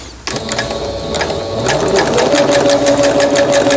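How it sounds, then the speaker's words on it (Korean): A home sewing machine, a Singer 7258, stitching a decorative quilting pattern, with a steady loud mechanical whir and rapid needle clatter that starts abruptly and runs continuously, alone without talk. "누빔 바느질이죠."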